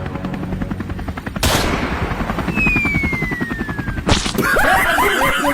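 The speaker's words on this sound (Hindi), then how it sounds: "लोखंडे मार गोली हेलीकॉप्टर में।" Rapid bursts of gunfire crackle at a hovering helicopter whose rotor keeps thumping underneath, loud and close, with sharp bangs and a brief laugh-like sound near the end.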